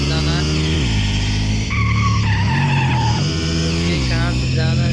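Motorbike skidding in a Los Angeles ramp challenge video game, a loud sustained tire squeal with shifting engine whine that steps up and down in pitch over several seconds, played up front without any talk.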